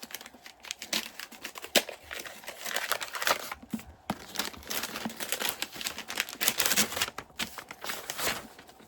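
A mailed book package is unwrapped up close, with crinkling plastic, rustling paper and sharp tearing in irregular bursts, fairly quiet and with no speech.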